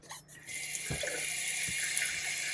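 Water runs steadily from a tap in the lavatory of an old motor coach, a continuous hissing gush after a brief sputter at the start, with faint knocks underneath.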